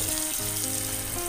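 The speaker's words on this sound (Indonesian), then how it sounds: "Kita siram sampai betul-betul basah ya," Water poured or sprayed over transplanted bitter gourd seedlings in a garden to soak the soil, a close, steady hissing gush with no pauses and no voices.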